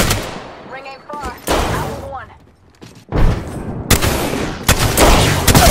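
Rapid bursts of gunfire from an Apex Legends match, loud and close, come in several sharp volleys with brief lulls between them, and game sounds and voices mix in.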